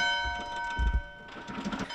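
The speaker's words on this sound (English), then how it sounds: "With the school bell ringing once again" A school bell rings with steady sustained tones over a low background rumble, clear and moderately loud throughout.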